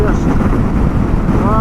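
Strong gusting wind buffets a Kawasaki KLR-650 motorcycle on a rocky, barren outback road between Adelaide and Oodnadatta, a steady loud roar of wind noise against the helmet microphone throughout.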